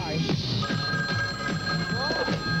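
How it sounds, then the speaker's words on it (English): A telephone bell rings in a film scene, repeated trills over a steady electronic hum, with speech faintly mixed underneath. "The ringing now."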